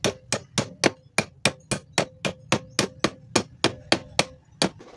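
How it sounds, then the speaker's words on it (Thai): A hammer drives a part into place during a DIY repair, sixteen sharp, evenly spaced strikes, close and loud with nothing else heard. "ตอกไปเลยนะครับ"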